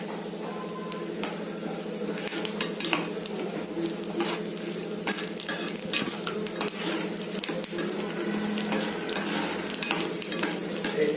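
Peanuts, urad dal and chana dal stir-roasted in hot oil give a continuous sizzle, with frequent scraping and clinking as a spatula stirs through the pan.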